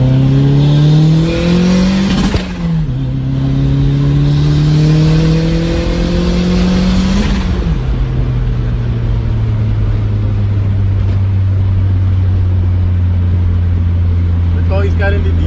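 A Toyota MR2 with a turbocharged 3SGTE engine is driven hard from inside the cabin, loud revs climbing through gears with brief shift dips, then settling into a steady lower drone.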